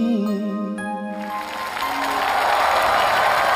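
Applause builds from a studio audience on a Chinese TV talent show as a musical jingle fades out, growing into dense, steady clapping that fills the rest of the clip.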